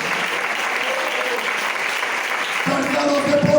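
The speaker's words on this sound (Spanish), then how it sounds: "Denle ese fuerte aplauso a Jesús en esta hora." Loud, steady applause from a large church congregation fills the room, sustained throughout with a slight swell near the end.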